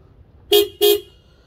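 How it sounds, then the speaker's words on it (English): Stock horn of a 2022 Toyota RAV4 Hybrid XLE, sounded in two short, loud honks in quick succession, close up with only faint background noise. "this is what the stock horn sounds like currently"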